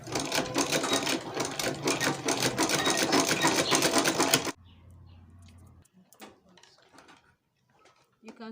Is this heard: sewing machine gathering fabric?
yes